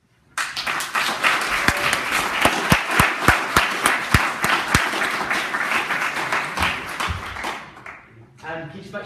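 A conference audience breaks into applause, a dense burst of clapping that starts abruptly, holds loud for several seconds, then fades out into a brief voice at the end.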